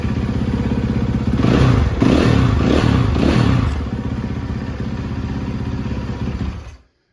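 A 2013 Yamaha YZ450F dirt bike, freshly rebuilt, runs loud and close, its single-cylinder engine blipping through a few revs before idling and then cutting off abruptly near the end.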